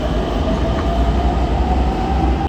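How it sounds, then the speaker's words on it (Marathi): A metro train rushes past close by, a loud continuous rumble of rolling wheels and carriages, steady throughout with no voices. "तेव्हा ही मेट्रो बघितली. आता ही मेट्रो गेली."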